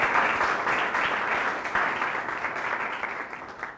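An indoor audience at a school panel discussion on higher education claps to welcome a panelist, a dense, loud burst of applause that holds steady and then slowly thins out.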